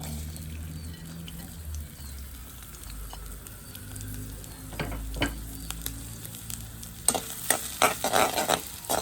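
Onion and green chili sizzle steadily in hot sesame oil, with occasional stirring scrapes and a sharper crackle of frying toward the end.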